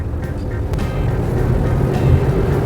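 Engine of a Tata Curvv heard from inside the cabin while driving, a steady low rumble and road drone, fairly loud and constant with no talk over it.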